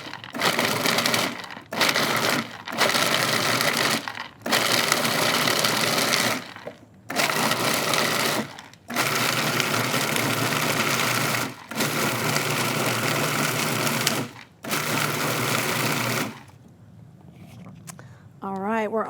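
A food grinder runs loudly, grinding a sloppy joe mixture into small sticky pieces in long steady bursts broken by short pauses, with a voice speaking near the end.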